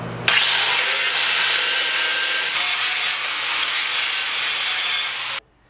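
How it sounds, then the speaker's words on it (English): An angle grinder strips the galvanized coating off steel tubing ahead of welding a tallbike frame, a steady, loud abrasive whine that runs nearly unbroken for about five seconds before cutting off abruptly, with no talk over it. "you should grind off the galvanization before you weld on it"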